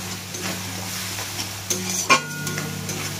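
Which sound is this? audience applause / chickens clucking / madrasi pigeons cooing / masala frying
masala frying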